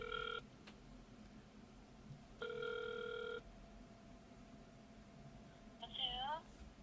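Telephone ringback during a call placed live on a radio show: repeated electronic ring bursts separated by pauses, faint under a quiet background, ending with a brief warbling tone.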